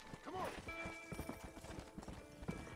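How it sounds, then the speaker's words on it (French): A horse in the video game Red Dead Redemption clip-clops along in a steady rhythm of hoofbeats, with a short whinny near the start. "il y a mon cheval qui m'a foutu par terre"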